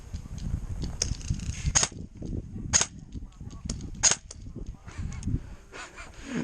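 Airsoft gun firing a handful of sharp, irregularly spaced shots during an outdoor skirmish, the gun over-hopped so its BBs fly erratically; cracks stand out clearly over low background rumble with no talking.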